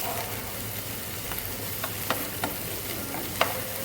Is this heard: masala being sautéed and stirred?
yes